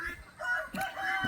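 Egg-laying hens in farm pens give faint short clucks and squawks, a few brief calls spread across a quiet moment.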